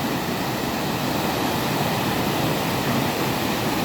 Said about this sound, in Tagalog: Yan, lakas ng current.